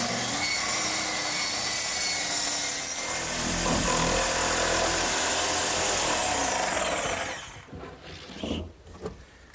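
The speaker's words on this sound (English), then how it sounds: "now all that's left to do is cut the hatch in the seat." A saw cuts a hatch into a wooden settle seat, sounding as a loud, steady, continuous rasping stroke for about seven seconds before it stops and leaves scattered faint knocks and handling noises.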